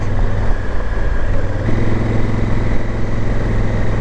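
A KLR motorcycle engine drones steadily while riding along a narrow road, a continuous low rumble with a slight shift in tone partway through.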